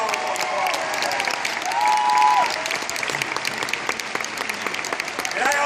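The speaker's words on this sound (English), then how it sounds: "Give yourself a great round of applause." Sustained applause from a large crowd at a 2015 Democratic Party of Virginia dinner, steady clapping throughout with some cheering and a few voices mixed in.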